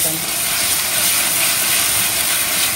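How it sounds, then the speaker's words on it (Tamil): Onion and ginger-garlic paste sauté in a hot pan with a steady, dense, close sizzle that stays even and loud throughout. "இஞ்சி பூண்டு பேஸ்ட் நல்லா வதங்கிடுச்சு"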